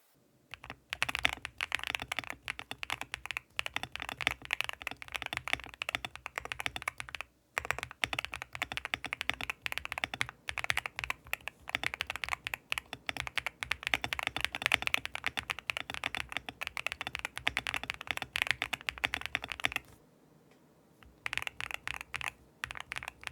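Fast, continuous clacking of a budget mechanical keyboard with a plastic body, stock, typed on up close, with a short pause near the end before the keystrokes resume.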